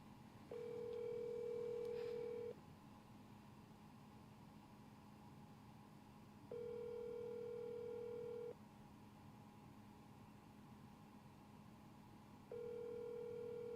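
Telephone ringback tone on a live-streamed call, three long steady rings about two seconds each with pauses between, clear over a low background hiss.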